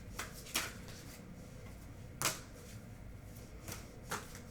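Osho Zen tarot cards are shuffled by hand, giving several sharp riffling bursts spaced a second or so apart over a quiet room, close and moderately loud.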